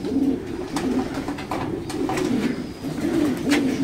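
French meat pigeons cooing close by, a soft repeated burbling coo in a steady rhythm over light background noise.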